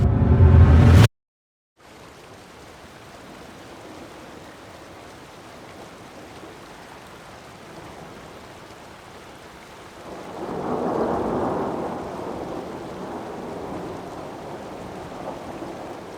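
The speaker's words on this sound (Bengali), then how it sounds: "অলরেডি জলপ্রপাতের ফলসের আওয়াজ পাওয়া যাচ্ছে, শো শো করে জল বইছে" At the Murga Mahadev waterfall in Keonjhar, Odisha, water rushes in a steady broadband hiss that swells louder midway, continuous and unbroken, following a brief loud burst at the start.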